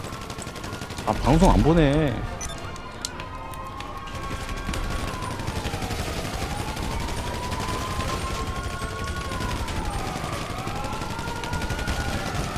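Bursts of rapid automatic gunfire in GTA 5, a loud close volley early on followed by a long wailing siren-like tone, with a player talking briefly.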